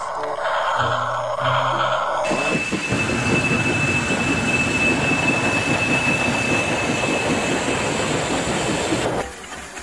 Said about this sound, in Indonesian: Coba dinyalakan. Wah, kereta api Thomas